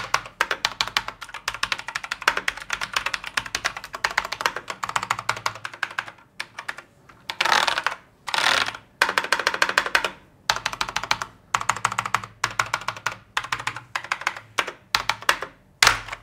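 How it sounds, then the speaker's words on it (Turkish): Typing on a mechanical keyboard with blue switches produces a close, loud run of crisp clicky keystrokes, fast bursts broken by short pauses and a few heavier presses. "Hemen bir switch sesine bakalım bu arada."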